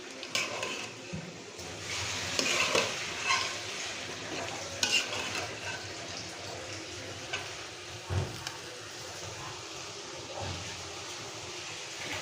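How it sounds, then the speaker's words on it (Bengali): Pre-boiled chicken fries in a little oil in a pan, a steady close sizzle with occasional stirring scrapes and a few louder clatters, no voices. "এখন হালকা একটু তেলে ভাজতেছি"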